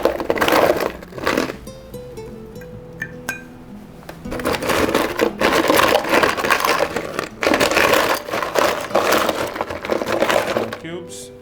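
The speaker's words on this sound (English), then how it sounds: "Let us get some ice into this." Ice cubes are dropped by hand into a glass for a gin and tea cocktail, with clinks, cracks and clatters in loud bursts close by.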